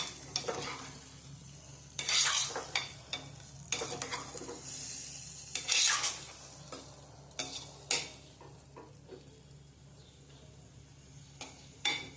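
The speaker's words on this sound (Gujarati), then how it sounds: "થોડા ગલકાને હલાવી દઈશું." Stuffed sponge gourd curry with tomato stirred in a pan, soft sizzling under repeated bursts of metal spoon scraping and clinking against the pan, close by and without speech.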